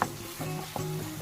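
Beef with tomato paste sizzles steadily in a pan while a spoon stirs it, giving a few scraping strokes over the constant close frying hiss, with no talking.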